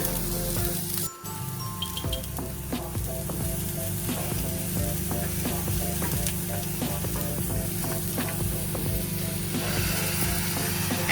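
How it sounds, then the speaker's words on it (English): Vegetables sizzle in a hot pan as they lightly roast with salt in a Kerala-style South Indian kitchen, a steady close frying hiss with occasional stirring clicks. "So I'm just lightly roasting the vegetables."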